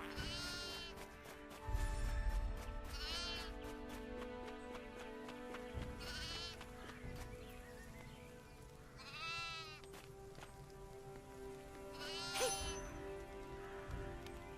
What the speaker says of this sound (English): I just picked up a sheep.